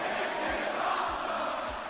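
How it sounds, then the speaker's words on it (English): Crowd at a Tetris match chanting in a rhythmic, repeated pattern, a dense distant roar of many voices under a low steady hum. "I think the crowd is chanting something."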